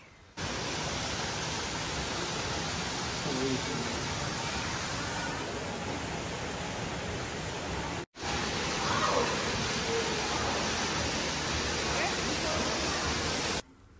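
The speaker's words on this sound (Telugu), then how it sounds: "ఈ వాటర్ సౌండ్స్ అవి కూడా అమేజింగ్గా ఉన్నాయి" Steady rush of flowing water among aquarium greenery in Düsseldorf, a broad, even wash of noise that runs continuously with a brief break near the middle.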